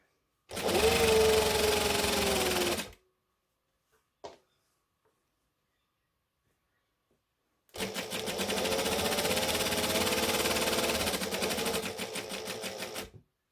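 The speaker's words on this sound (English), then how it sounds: "So we're going to start and back stitch and go down." A sewing machine back stitches and sews Christmas shorts, running in two loud, close bursts of rapid mechanical chatter, about two seconds and then about five seconds long, separated by silence and a single brief click.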